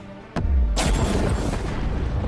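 A massive ability detonates in the strategy game Dawn of War 3, a sudden heavy boom followed by a deep, rumbling blast that rolls on loudly and fills the remaining moments.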